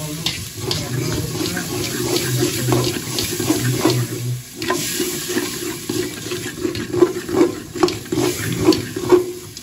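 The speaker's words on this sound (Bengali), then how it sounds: "এবার হালকা পানি দিলাম" Water poured and splashing into a simmering spice mix for a bachelor-style mess khichuri, a steady running-water wash with scattered clinks and taps from the pot throughout.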